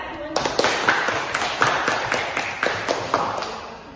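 A small group in a classroom claps in an uneven rhythm, close and fairly loud, with each burst of claps fading quickly.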